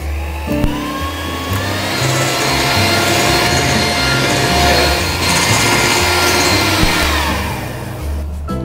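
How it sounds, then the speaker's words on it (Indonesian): An electric mixer whips cake batter at high speed until it is fluffy and holds trails, a loud continuous motor whir with shifting tones as the beaters move through the bowl. "untuk selanjutnya saya akan mengkocoknya dengan speed yang tinggi sampai benar-benar mengembang dan berjejak"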